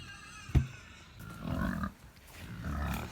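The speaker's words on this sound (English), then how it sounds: "I'm gonna feed the pigs first because they are just loud" Pigs on a snowy farm squeal and grunt loudly ahead of feeding time, one sharp squeal followed by two longer, rougher bursts of noisy vocalising close by.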